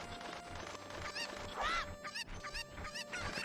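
A chicken in Ocarina of Time clucks and squawks repeatedly in short, rising calls over a busy game soundscape, loud and close.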